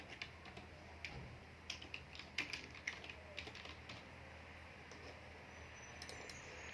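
Fingers tapping a computer keyboard, a quiet run of irregular clicks in a small burst, close and faint over a low steady room hum, no voices.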